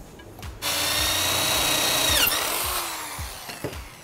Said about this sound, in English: we're gonna use these guys and we're gonna drill a pilot hole